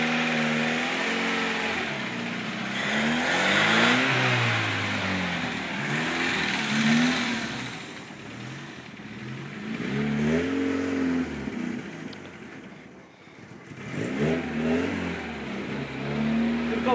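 Engine of a car with a 1.8 motor revving repeatedly as the gas pedal is pressed, rising and falling in several swells over a steady idle, close and fairly loud.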